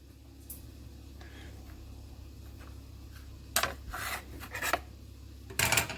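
Blade slicing a strip from a slab of polymer clay: soft quiet scraping first, then a few louder, brief rasping cuts close up, with no talking.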